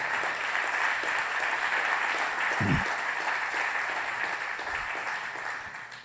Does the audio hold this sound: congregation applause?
yes